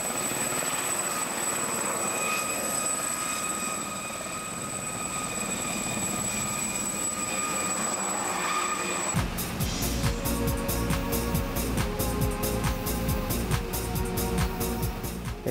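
An aircraft taking off for a flight over crop circles gives a steady droning engine sound, close and loud, that shifts into a heavy rhythmic rotor-like beat as it lifts off.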